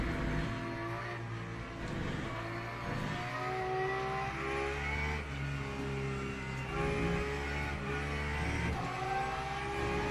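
LMP3 prototype race car engine in the Le Mans Ultimate sim during a wet race, a steady loud droning roar with rising and falling pitch as it revs through gears, continuous with no talk.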